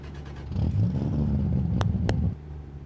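A Japanese car's engine starts and revs in American Truck Simulator. A low, loud rumble swells up and holds for under two seconds, with a couple of sharp clicks on top before it drops away.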